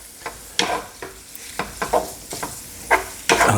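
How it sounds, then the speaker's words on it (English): Spaghetti is stirred in a hot pan coated with olive oil sauce, making soft scraping and tossing sounds in irregular strokes over a faint sizzle. The sounds are close, with no voices. "I just want to get it coated with that beautiful olive oil sauce that we put together."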